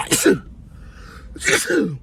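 Two sharp, explosive sneezes, close and loud, separated by a brief pause.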